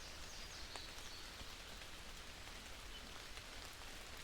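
Video game rain falls steadily in a backyard, a soft even hiss of drops with faint patters on surfaces, quiet and continuous with no voices.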